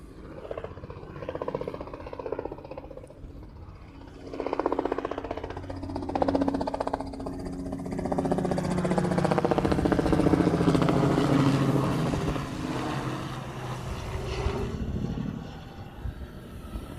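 A Hawaiian Airlines airliner arriving in Hawaii from LAX, its jet roar building from a low rumble into a loud, sustained rush that peaks midway and then eases slightly.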